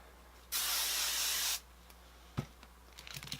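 Hairspray sprays onto a Prompto cosplay wig in one steady, close hiss lasting about a second, followed by faint rustles and small clicks of handling.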